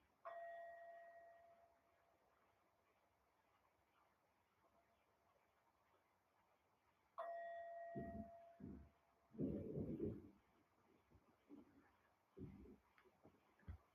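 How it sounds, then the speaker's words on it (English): A bell rung to close a spoken talk gives two clear ringing strikes about seven seconds apart, each with a long fading tone. Heavy low thumps and knocks follow the second strike. "I will ring the bell 3 times."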